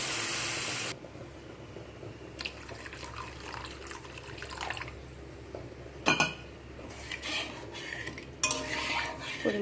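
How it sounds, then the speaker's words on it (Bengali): Water is poured from a utensil into a pan of pabda fish curry cooked with black cumin, with soft splashing and clinking of a spoon against the pan, a few sharper knocks near the end, and no talking. "তো এখন এর মধ্যে আমি দিয়ে দেবো পরিমাণ মতো জল।"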